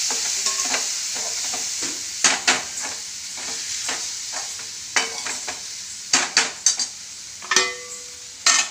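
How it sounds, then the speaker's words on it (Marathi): Kurdai bhaji stirred and sautéed in a pan: a spatula scrapes and knocks against the pan in irregular bursts over a soft, continuous sizzle, with no voices. "परतून घेत आहे"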